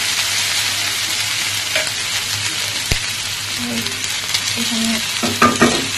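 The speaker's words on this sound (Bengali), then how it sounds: "ফ্রাইড রাইস করতেছি আজকে।" Fried rice cooking in a pan, a loud continuous sizzle with occasional stirring knocks near the end, and a brief spoken word partway through.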